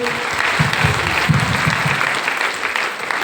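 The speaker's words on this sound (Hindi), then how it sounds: "और मैडम के लिए जोरदार ताली होनी चाहिए" A crowd at a meeting in a resort claps loudly and steadily, a dense wash of applause that holds throughout and eases slightly at the end.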